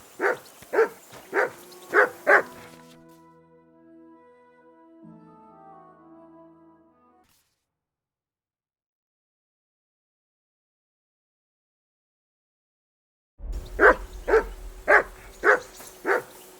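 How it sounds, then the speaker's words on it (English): A dog in the video game Kingdom Come: Deliverance 2 barks in a quick burst of about five loud, close barks, then a soft whining tone and a long silence, followed by another run of barks. "Henry, call that dog to heel."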